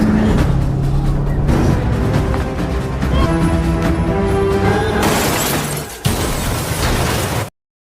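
A bus in a film scene rams into an electric pole, with dense, loud layered crash and impact noise over a dramatic score, a sharp break near the sixth second, then a burst of debris clatter before abrupt silence.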